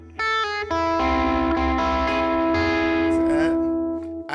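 A heavily distorted electric guitar plays gospel-style notes and runs around a chord, with sustained, buzzing tones ringing out loudly through an effects unit with a chorus-like shimmer.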